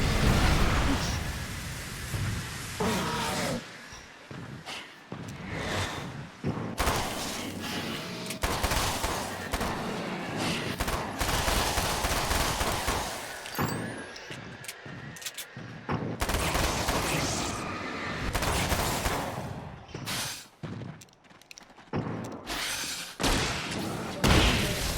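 Gunfire in the video game Alan Wake's American Nightmare, dense bursts of shots and heavy thuds running loud and nearly continuous through the scene, with a few brief pauses and some speech mixed in.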